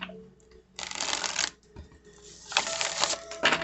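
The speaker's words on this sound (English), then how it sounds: "so I'm going to shuffle them" A deck of tarot cards is shuffled by hand, giving crisp, dense riffling bursts in two main flurries separated by a brief pause, close and clear with no talk.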